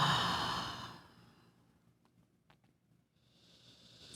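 A long, deep exhale during a slow yoga breathing practice fades out over the first second, followed by quiet room tone, a faint tap and soft breath.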